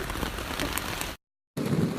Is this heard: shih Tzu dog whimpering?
no